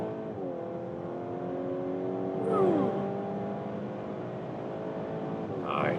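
A VW Golf R Black Edition accelerating hard at high speed, heard from inside: a steady engine drone climbing in pitch through gear changes, with rising wind noise and a brief voice near the middle.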